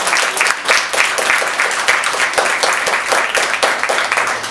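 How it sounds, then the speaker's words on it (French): Warm audience applause at a talk on young Indigenous womanhood, dense steady clapping from a crowd continuing throughout without a break, loud and close. "Oui, on peut l'applaudir chaleureusement."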